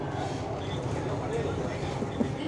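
A metro train in Chennai runs along with a steady, muffled rumble, heard from inside the moving car while voices murmur faintly under the noise.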